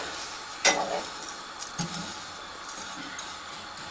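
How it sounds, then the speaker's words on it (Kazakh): Thin vermicelli toasting in a dry frying pan with no oil makes a faint, soft rustle and crackle, with a few sharper scrapes and clinks as it is stirred. "құрғақ сковородкаға май салмай, енді вермишелімізді қуырып аламыз"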